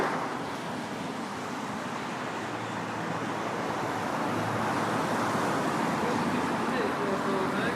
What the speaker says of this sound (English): So I'm next to loud traffic.